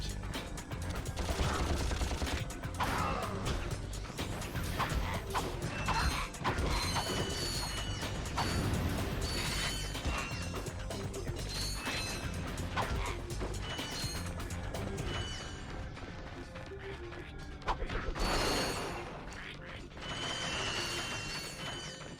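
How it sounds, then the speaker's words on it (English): Bolts being collected in the Ratchet & Clank video game make dense, rapid metallic clinks and ratcheting rattles over game music and effects, a loud and busy stream with no voices. "I swear picking up bolts is just some sort of ASMR for me"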